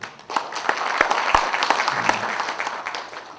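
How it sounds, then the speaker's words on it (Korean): A union meeting audience claps steadily for a few seconds, a dense indoor round of applause with no voices over it. "박수 한번 주시기 바랍니다."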